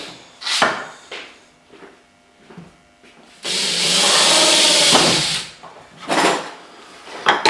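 A power drill bores through a kitchen drawer front for a handle, giving one loud, continuous two-second whine between softer scattered knocks and handling noises.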